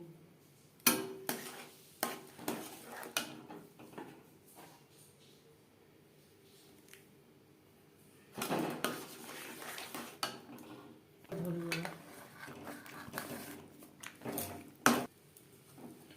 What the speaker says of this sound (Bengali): এভাবে চালের গুঁড়ো মিক্সড করতে থাকবো আর নাড়তে থাকবো।